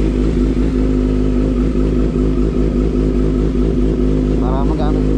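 A motorcycle engine idles close by with a steady, loud, throbbing hum that runs the whole time.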